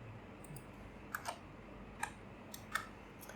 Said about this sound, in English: you can click OK there and save it